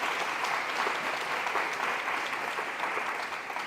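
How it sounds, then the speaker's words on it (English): Sustained audience applause at a women's scholarship and awards ceremony, a dense, steady wash of many hands clapping that holds at an even level throughout. "Let's give Miss Leslie Morris a round of applause,"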